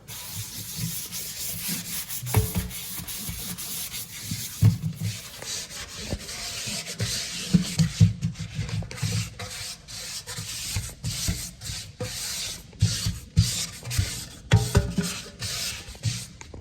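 Scrubbing an oven part clean by hand, steady rough rubbing strokes with a gritty, uneven rhythm, close and moderately quiet, with no talking.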